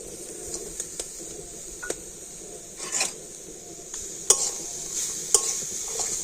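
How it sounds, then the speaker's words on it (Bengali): Pieces of date palm jaggery with coconut are stirred in a pan with a utensil, giving soft scraping strokes and occasional clinks against the metal, close up, over a faint steady hiss and no talking. "আর এবার এইরকম একটু নাড়াচাড়া করে নেব আর এইরকম নাড়াচাড়া করলে গুড়টা কিন্তু খুব ভালোভাবে গলে যাবে"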